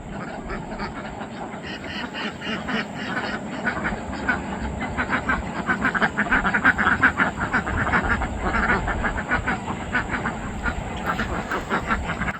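Ducks quack continuously in a busy, overlapping chorus, moderately close, with a faint steady hum in the background.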